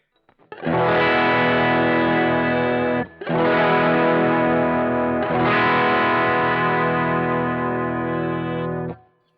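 Boss GT-1 guitar multi-effects with the overdrive/distortion level turned down to 50, playing sustained distorted chords with a chorus sheen, three long strummed passages separated by brief gaps, loud and alone.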